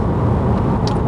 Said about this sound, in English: I'm not tired of driving this car.